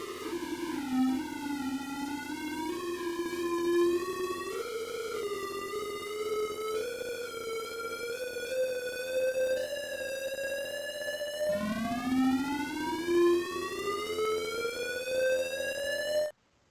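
Sonified sorting algorithm visualization working through 1,000 elements: a continuous rich buzzy tone sweeping steadily upward in pitch, then dropping abruptly and gliding upward again before cutting off; steady and alone.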